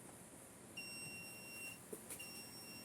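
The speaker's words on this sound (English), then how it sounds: "buzzer started, lights light up" A high electronic buzzer tone on a smart wooden training dummy switches on and holds steadily, with a second tone joining briefly, over a constant background hum.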